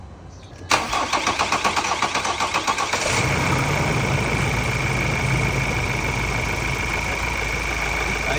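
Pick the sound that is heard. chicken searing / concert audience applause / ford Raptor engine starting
ford Raptor engine starting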